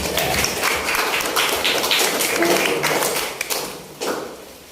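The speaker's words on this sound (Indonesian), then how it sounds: "Beri aplaus." Classroom audience clapping in applause after a student group's presentation on funeral visits and grave pilgrimage, a dense, steady patter of many hands sustained throughout, with a few louder claps near the end.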